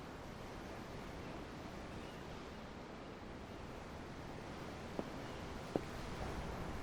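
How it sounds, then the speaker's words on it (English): Ocean waves in the video game Tales of Arise roll as a steady, broad wash of surf and wind, even and fairly soft, with two faint clicks near the end. "The ocean? Yeah. The waves."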